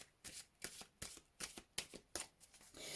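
Tarot cards are shuffled close up in a quick run of riffling bursts, each a soft papery flutter, repeated steadily with short pauses between them.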